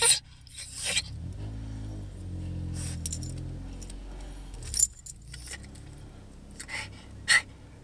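Keys jangle and a Ford Mustang's engine rumbles up and drones at low pitch beneath brief rustles and clinks, with short bursts of jingling returning near the end.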